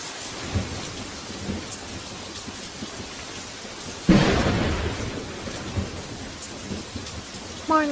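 Steady rain hisses through a lightning storm in an anime film, with a loud thunderclap bursting in around the midpoint and rolling on, plus a few smaller cracks and rumbles scattered around it; no one speaks.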